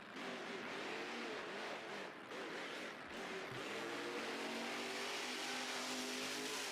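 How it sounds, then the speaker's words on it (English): A monster truck revs its engine hard during a competition run at an event, heard faint and distant as a steady roar with rising revs, with little talk over it. "I hear a truck."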